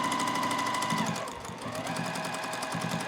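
A sewing machine chain-piecing a quilt block, a steady fast mechanical whir with a rapid needle rhythm, close and alone, briefly slowing mid-run before picking up again.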